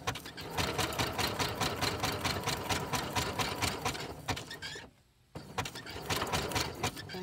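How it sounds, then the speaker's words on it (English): Sewing machine stitching a paper envelope made from music paper, a rapid close mechanical rattle running steadily, pausing briefly near the end before resuming. "I've heard my sewing machine on camera before and I don't think it's that bad actually"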